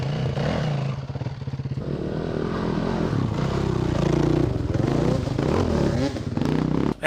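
Dirt bike ridden hard along a muddy trail, a continuous loud engine drone with uneven throttle swells and clattering, close to the rider.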